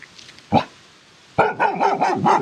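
A male dog barks nearby, one sharp bark followed after a pause by a rapid series of loud, close barks and yips.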